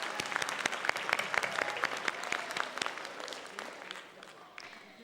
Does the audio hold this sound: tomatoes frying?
no